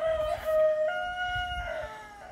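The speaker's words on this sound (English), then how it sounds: "it's gonna be loud and rowdy because my roosters are just not gonna shut up" Several roosters crowing in a backyard garden, with overlapping drawn-out calls repeating across the stretch at close to moderate distance, fairly loud against a rustling outdoor background.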